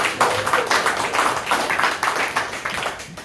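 An audience at an evening honoring event claps steadily and enthusiastically, a dense, continuous patter of many hands filling the room with no pause.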